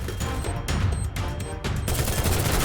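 Shotgun gunfire in a ninja-themed video game, several rapid booming shots and clattering bursts packed close together over a dense, noisy game soundscape.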